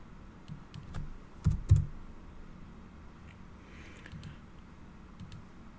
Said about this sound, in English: then I'm gonna type the address of the dashboard